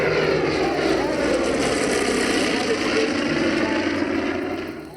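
Deep, raspy drone of a North American B-25, the twin-engine WWII bomber with short exhaust stacks, as it passes steadily at close range, the propeller engines loud and gritty throughout before easing off slightly at the very end.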